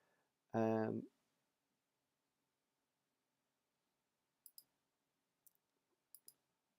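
Sharp keyboard clicks come while a chat message is typed, sparse pairs of quick taps spread over the last few seconds after a short burst of speech, with silence in between.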